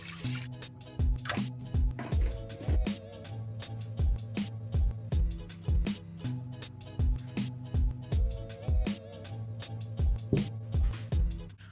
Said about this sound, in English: But we're filling up the water.